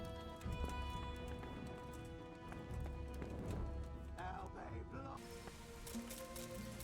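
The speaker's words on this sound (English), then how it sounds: "Awesome looking horse." Horse hooves clip-clopping in the medieval game Kingdom Come Deliverance, a steady trotting beat under background music and ambience, moderately close, with a voice briefly speaking.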